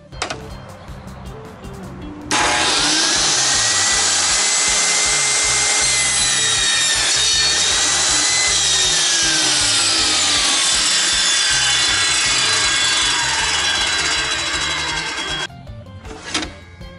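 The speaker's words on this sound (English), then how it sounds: "Of course, there is the circular blade. So I can run them through this way and I'll make a perfect 4-inch cut every time." A circular saw blade runs through wood for a cutting pass, making transom mount pieces for a trolling motor. A loud, steady whining cut holds for about thirteen seconds, then winds down, with bench noises before and after.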